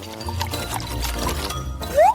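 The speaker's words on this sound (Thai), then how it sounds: "งั้นเธอเทน้ำมันใส่ลงไปนะ" Oil pouring into a vase as part of a Mentos experiment, a soft steady liquid stream with a brief rising gurgle near the end, heard alone with no talk.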